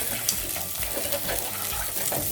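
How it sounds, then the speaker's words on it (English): Milk poured slowly into a cooking butter and flour roux, giving a steady liquid trickle and soft bubbling close by, continuous for a couple of seconds with no talking. "And now we're gonna add in the milk. Nice and slowly."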